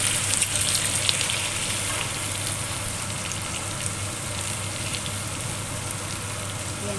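Chicken wings cooking with Coke in a pan give off a steady, even sizzle and bubbling that stays loud and constant throughout, with no pauses.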